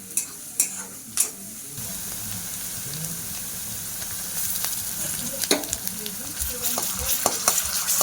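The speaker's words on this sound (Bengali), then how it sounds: "পেঁয়াজটা একটু ভাজা ভাজা করে নিলে রসুনটা দেবে" Onion frying in a pan sets off a loud, dense sizzle close by, starting with a few sharp knocks and then carrying on as a continuous crackle with occasional spatula taps.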